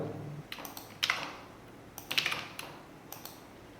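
Computer keyboard keys pressed for a Ctrl+V paste: a few faint, separated clicks in small clusters about a second apart over a quiet room background.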